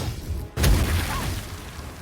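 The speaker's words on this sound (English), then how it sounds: "Siege weapon!" A siege weapon fires in the video game Baldur's Gate 3, a single heavy, deep boom that cuts in sharply after a moment of quiet and then rolls off into a rumbling tail.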